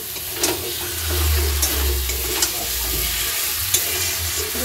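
Water poured into spice paste frying in oil for a potato dum, bringing a burst of sizzling and bubbling with low rumble, clinks and stirring knocks, moderately loud and without voices.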